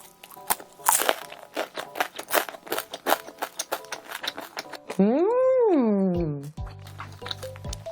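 Rapid crisp crunching of a fried spring roll filled with meat being bitten and chewed close up, followed by a voice speaking with a rising-falling exclamation.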